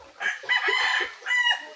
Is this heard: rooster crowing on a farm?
yes